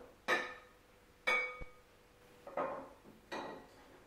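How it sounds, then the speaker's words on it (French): Brown vergeoise sugar being beaten with butter in a bowl produces four distinct clinking knocks of a utensil against the bowl, spaced about a second apart, close and fairly quiet. "on va commencer par battre notre sucre brun avec, donc notre sucre type vergeoise avec le beurre"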